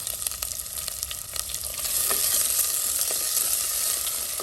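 Onion, mustard seeds and curry leaves fry in hot coconut oil, a steady bright sizzle with scattered pops and crackles that swells louder midway and holds, with no voices over it.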